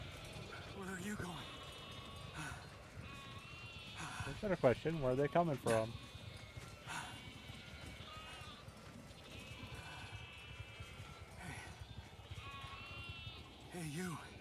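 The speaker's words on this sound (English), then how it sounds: "Ah, look at all the sheep." Sheep bleat repeatedly in the video game The Alters, several wavering cries at moderate distance, with one louder burst, while a person talks over them.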